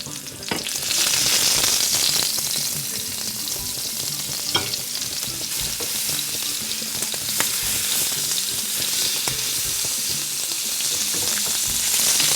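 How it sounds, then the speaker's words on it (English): Seasoned scallops sear seasoned side down in hot oil in a pan, giving a steady, loud, close sizzle and crackle that holds evenly throughout with small pops. "And you want to hear that sizzle."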